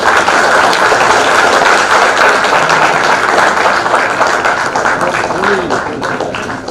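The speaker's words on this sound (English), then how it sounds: "Give them a big round of applause." Audience applause at a book release ceremony for a science and freedom-struggle book with the Governor of Telangana, a steady dense wash of clapping throughout with voices murmuring underneath.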